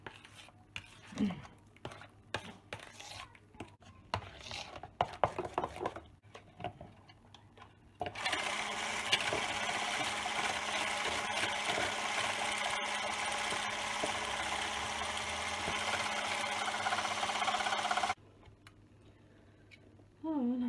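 Cheesecake batter with yogurt mixed in a bowl, scattered spoon clinks and taps at first, then a long steady whirring mixer drone for about ten seconds before it stops, faint and close.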